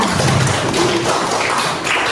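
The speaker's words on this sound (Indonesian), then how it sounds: "Tepuk tangan dulu untuk teman-teman yang di depan" Students in a classroom clap for classmates standing at the front, a loud, close, dense patter of small hands with tapping thuds, continuous across the moment.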